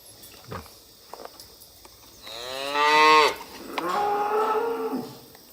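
Calves and cattle moo loudly and fairly close on the day the calves are separated from their mothers, with a long drawn-out call followed by a second lower bellow, set against faint footsteps and farmyard background.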